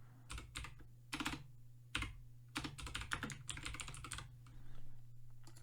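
Quick bursts of keystrokes on a computer keyboard, clustered taps separated by short pauses over a faint steady hum, close and clear with no voices.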